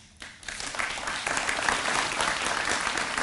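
Steady audience applause at a health sciences center groundbreaking ceremony, a dense wash of clapping that starts abruptly and holds at an even, moderately loud level.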